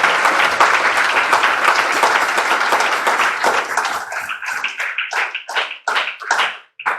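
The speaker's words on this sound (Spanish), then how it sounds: "Denles ofrenda de palmas a Dios" Church congregation applauding during a Spanish-language service: loud dense clapping from many hands that thins out into scattered individual claps toward the end.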